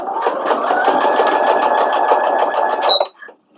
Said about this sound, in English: I'm going to make sure that I'm sewing a straight line